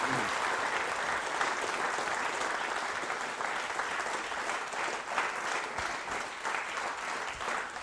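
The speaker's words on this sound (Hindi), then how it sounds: "तालियां जोरों से बजाइए आपके लिए" Sustained, vigorous audience applause at a school quiz show at Bright Future Public School, a dense wash of many hands clapping steadily for several seconds with no voices on top.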